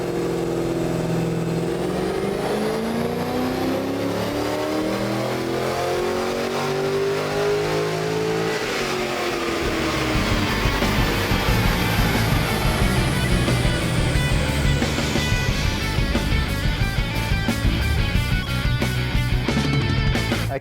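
A VE Sports Wagon with upgraded heads and cams revving on a dyno, the engine note sweeping down, then building and climbing hard into a loud, sustained high-rpm wail before easing off near the end.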